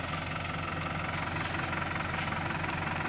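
Tractor engine running steadily while driving slowly through a corn field and spraying, a close, loud, even diesel drone with a knocking pulse and no talk.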